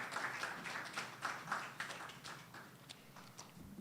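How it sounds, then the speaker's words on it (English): A summit audience gives scattered, fairly faint applause, with irregular claps that thin out toward the end. "A round of applause."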